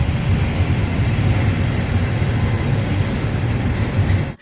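A train rolls along the rails in Macedonia, its steady loud rumble and rattling filling the whole stretch without a break, heard up close from on board. Nobody speaks.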